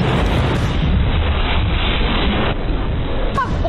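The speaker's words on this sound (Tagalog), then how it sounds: "Tila itinutulak ng napakalakas na hangin ang gate." A very strong wind roars through the rain and pushes against a gate. The gusting noise is loud and unbroken, buffeting the microphone for the whole stretch.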